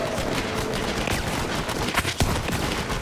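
Pistol fire in Borderlands 3, a hand-cannon type gun, sounds as dense overlapping bursts of gunshots against a busy, loud game mix, with a sharp crack standing out near the end.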